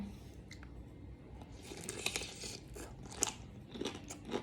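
Crunchy giant jellyfish chewed right at the mouth: soft, wet, irregular crunches and bites that grow denser toward the end, quiet and close with no talk.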